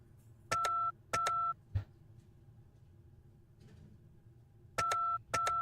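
Telephone keypad tones dialed in a video game: four short two-tone beeps, two in quick succession early on and two more near the end, with a faint low thump between them and quiet stretches of line hiss.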